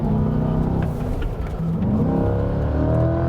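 A 2020 Chevrolet Corvette C8 with passive springs, heard from inside the cabin, accelerating hard as its engine note climbs steadily in pitch for a few seconds, loud and continuous with no talk.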